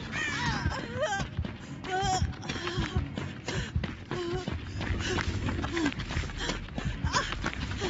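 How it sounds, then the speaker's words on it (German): Crows caw repeatedly in the horror video game Dead by Daylight. Several harsh calls rise and fall over footsteps and the game's ambient noise, with bursts at different distances across the scene. "Diese Dreckskrähen."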